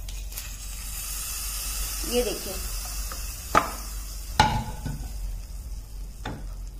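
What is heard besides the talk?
hot tempering poured into coconut chutney, sizzling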